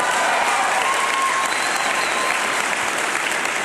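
Sustained audience applause at a Kevin Smith live show, a thick, even roar of many hands clapping that holds steady for several seconds without talk.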